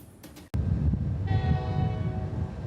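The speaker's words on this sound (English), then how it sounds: "trains were moving quickly through the Galesburg rail yard" A freight train's horn sounds in a rail yard, a sustained, loud, harmonic blast that enters about halfway through over a heavy low rumble of rolling cars, with no talk.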